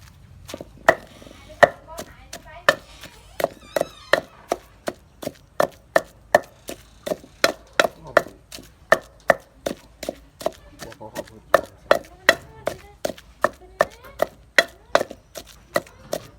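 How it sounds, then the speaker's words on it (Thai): Steady pestle pounding of ingredients in a mortar for a Tai Lue spicy sour salad served with rice noodles. The thuds fall at an even, moderately quick pace, close and loud, with faint background sounds between strikes. "ตำให้ส่วนผสมมันเข้ากันเนาะเพื่อน"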